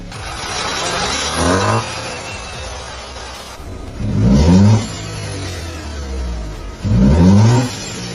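An Audi Q5 engine, restored after flood damage, revs up three times in separate pulls as it shifts through the gears, each climb cut off by a brief dip, over a steady road rumble.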